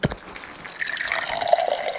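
Tap water poured into a container for drinking at home, a steady close rushing stream that starts after a brief knock and runs on continuously, with no talking.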